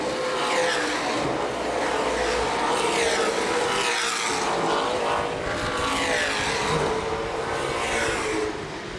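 Late model sportsman race cars roar down the front straightaway at Winchester Speedway, their engines loud and close, with several cars passing in waves.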